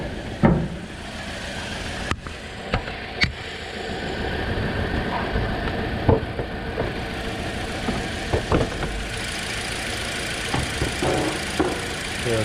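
A 2009 Toyota Corolla 1.8 engine idles rough with a misfire, a low steady rumble in a shop broken by scattered knocks and clunks, heard close and alone.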